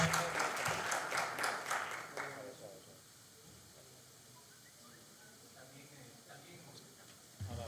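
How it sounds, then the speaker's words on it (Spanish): A lecture audience claps for a professor at a conference, with loud, dense applause for about two seconds that then fades to quiet room noise and scattered faint sounds. "Les pidamos un aplauso"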